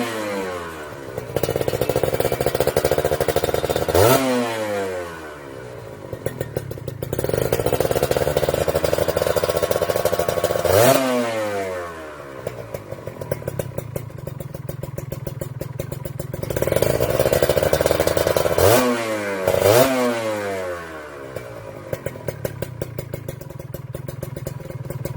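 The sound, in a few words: two-stroke racing motorcycle exhaust revving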